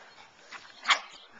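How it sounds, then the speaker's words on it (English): A roughly 150-pound dog and a much smaller dog scuffle during an outdoor gathering of a dozen dogs, with one sharp, loud yelping bark rising out of faint background rustle. "It's Big Dog Rumble. Oh, did he tell you off, Oscar?"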